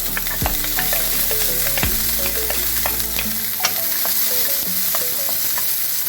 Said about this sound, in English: Now I'm going to add the garlic.